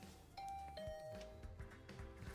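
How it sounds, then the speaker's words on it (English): A doorbell in the video game The Hundred Line rings as a clear two-tone chime, one ding followed by a second tone, alone and close with nothing else over it. "I rang the doorbell to Tsubasa's room."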